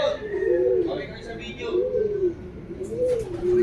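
Pigeons coo in a slow, repeating series of rolling calls close by, with people talking underneath at a racing-pigeon training release in Carmona, Cavite.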